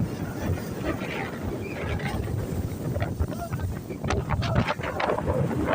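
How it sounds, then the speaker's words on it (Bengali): Strong wind and waves on the Rupnarayan river during Cyclone Remal, heard from the riverbank: a loud, steady roar of wind buffeting the microphone over rushing water, with a few sharper splashes near the end. "প্রচুর বাতাস, প্রচুর ঢেউ।"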